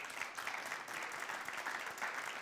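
Studio audience on a television entertainment show clapping to welcome guests from Dubai Mall, a steady, fairly quiet wash of applause with no break.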